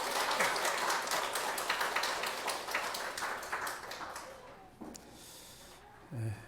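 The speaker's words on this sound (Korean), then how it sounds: "우리 하나님께 감사와 영광의 박수 올려드리겠습니다." A church congregation at a Sunday morning worship service bursts into dense, fairly distant applause that holds steady for several seconds, then thins out and fades to near quiet.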